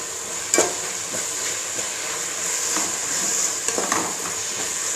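Fresh mint and coriander leaves sauté in a pan for mushroom biryani, a soft steady sizzle with occasional stirring clinks and scrapes, close and alone.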